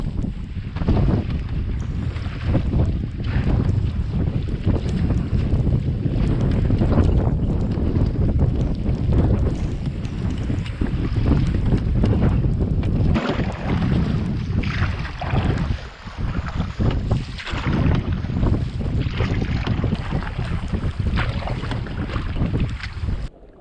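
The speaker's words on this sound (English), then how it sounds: "the waves are already starting to build and the wind's picking up" Loud, steady wind buffeting the microphone over choppy water and waves while paddling a kayak or canoe into strong, gusting headwinds on a wilderness camping trip, a continuous roar with no talking.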